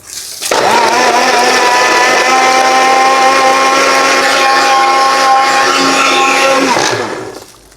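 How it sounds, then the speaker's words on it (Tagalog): A blender whirs at high speed blending a milkfish marinade, loud and close, starting abruptly, holding a steady motor whine for about seven seconds, then cutting off. "Lagay ko na po ito sa blender"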